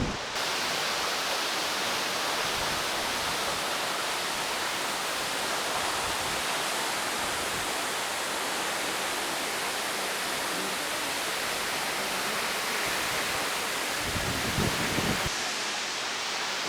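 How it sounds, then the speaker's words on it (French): A waterfall at a Jurassic Park filming location pours in a steady, dense hiss and roar, close and constant throughout with no voices. "on y arrive enfin, la fameuse cascade du début du film."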